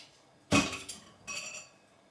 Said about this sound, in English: I just broke a glass.